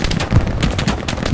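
Rapid machine gun fire in Hell Let Loose on the Carentan battlefield: dense, loud, continuous rattling bursts for the whole moment, with no talk over it.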